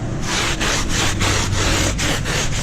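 A stiff brush scrubs hard and fast over a muddy truck tire during a wash, about nine loud, rhythmic back-and-forth strokes close to the microphone, with no talking.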